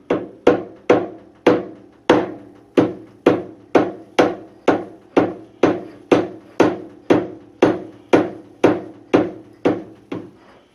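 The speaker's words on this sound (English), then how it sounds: "I got this hammer out and started whacking on it, and it has started to move." Steady, evenly spaced hammer blows strike the headstock of a 1925 Logan lathe during a teardown, about twenty sharp metallic whacks in roughly ten seconds, each loud and close with a short ringing decay.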